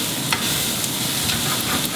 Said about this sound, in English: I am going to saute the onions, shallots, and the mushrooms